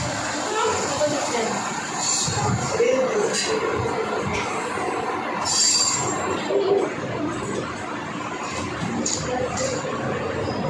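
A single-coach rail bus at the Joshi Railway Museum in Pune rumbles along the tracks with faint squeals and clinks, while a person talks over the steady noise.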